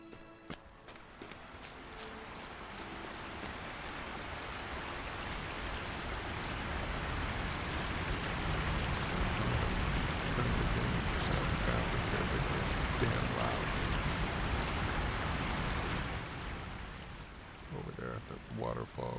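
Rushing waterfall on the Loudwater river near Rivendell in the Lord of the Rings Online game, a steady broadband roar of falling water that swells louder through the middle and fades toward the end, with faint talk near the close.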